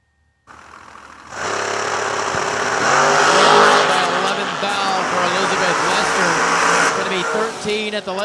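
Drag racing cars at Kil-Kare launch and roar down the track, a loud sustained engine blast rising after a brief silence and holding to the end, with an announcer talking over it.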